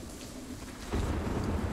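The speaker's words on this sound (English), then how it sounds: "We have a dynamic weather system, so now it's raining." Rain from the dynamic weather of the video game Sniper Ghost Warrior 3, a steady outdoor hiss that swells into a heavier, rumbling downpour partway through.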